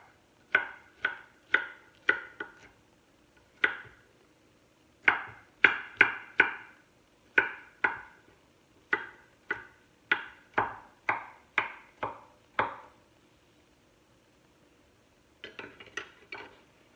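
A ceramic knife minces food for a venison pan roast, striking the cutting board in quick bursts of sharp, close taps. A long run of chops is followed by a pause, then a few more strikes.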